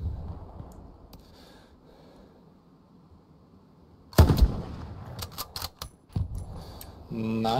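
Sniper battle gunfire in Hell Let Loose: a quiet, rumbling lull gives way to a sudden loud shot, followed by several sharp cracks and clatter close by.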